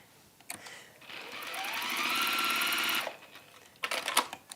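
A sewing machine runs a line of top stitching on a glasses case in one steady burst of about two seconds, close and fairly loud, with handling clicks and rustles before and after.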